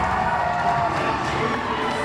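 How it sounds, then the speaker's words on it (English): A wrestling crowd roars and cheers wildly inside the Théâtre Paradoxe after a British Commonwealth Heavyweight Championship match, a dense, loud, continuous wall of shouting voices throughout. "This crowd going absolutely nuts."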